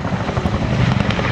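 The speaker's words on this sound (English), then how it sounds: "One Chinook can lift another Chinook. And that's almost unique in the helicopter world." A Chinook tandem-rotor helicopter flies an airshow display, its loud, steady rotor thrum and engine roar filling the air without pause.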